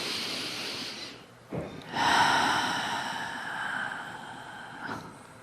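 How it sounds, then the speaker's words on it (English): A person in a guided meditation takes deep breaths: a sharp inhale, a short pause, then a long drawn-out exhale, close and clear with nothing else going on. "Let your breathing be your receiving."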